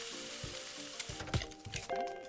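Chicken sizzles in a frying pan in the cooking video game Cook, Serve, Delicious, a continuous crackling fry with scattered clicks and small bursts of game sound effects.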